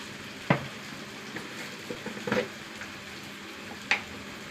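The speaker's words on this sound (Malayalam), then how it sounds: "ഉള്ളിയൊന്ന് മൂത്ത് വരട്ടെ." Onions and green chilies fry in a pan, a continuous close sizzle broken by a few louder stirring scrapes and clinks of a utensil.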